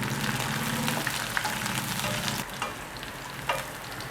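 Garlic pieces with chili frying in oil for a vegetable dish, a dense close sizzle that eases slightly partway through with a few faint clicks of stirring.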